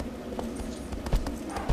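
A horse's hooves clip-clop over ground in the video game Shadow of the Colossus, a steady run of close, rhythmic thuds with a couple of heavier strikes near the end.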